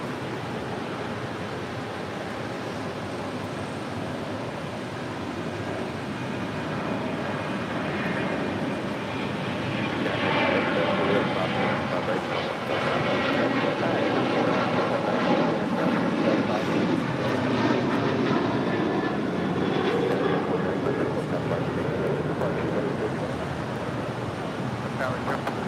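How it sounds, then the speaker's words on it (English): A United Airlines Boeing 737 MAX 8 arrives. Its engine rumble swells gradually and peaks midway with a whining, wavering tone before easing slightly, all set against continuous wind-like noise. "This flight coming in from Cleveland, Ohio. United Airlines flight 1977 at the 737 MAX 8."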